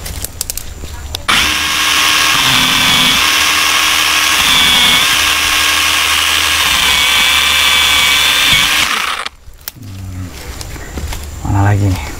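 A Modren M58 battery-powered mini chainsaw cuts tree branches for firewood, its steady high-pitched buzz running continuously for several seconds before cutting out, followed by scattered handling noises.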